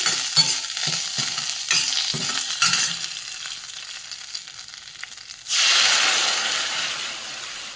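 Mustard seeds pop and splutter in hot oil with scattered sharp crackles, then the sizzle briefly quietens before a loud burst of frying as curry leaves go in and are stirred, hissing strongly before slowly easing.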